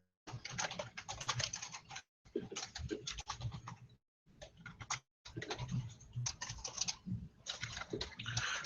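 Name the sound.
typing on a computer keyboard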